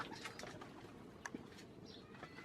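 Pigeons nesting on eggs on a rooftop give quiet, intermittent coos amid faint scattered rustles, ending with a sudden louder knock.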